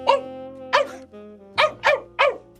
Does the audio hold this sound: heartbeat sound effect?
no